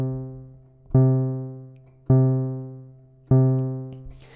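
A synthesizer tone from the Silent plugin, built for the Stranger Things theme, plays three identical sustained notes, each starting with a sharp attack and slowly decaying, spaced about a second apart and clean, with no talking.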